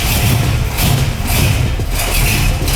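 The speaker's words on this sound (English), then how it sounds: "You go to try to start a carbureted car up, they always do that." A 1971 Buick Riviera with a carbureted engine struggling to start: loud, rough, uneven engine rumble with thumping and sputtering, close and continuous, with no voices.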